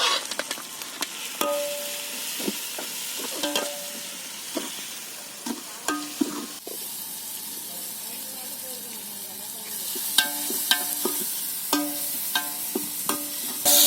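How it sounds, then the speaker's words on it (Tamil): Fresh mint and coriander leaves sautéing in a pan for mushroom biryani, with a steady soft sizzle under repeated sharp scrapes and clinks of a spatula stirring, some louder bursts of frying toward the end. "புதினா, கொத்தமல்லிப்பா. நல்லா வதக்கணும்ப்பா."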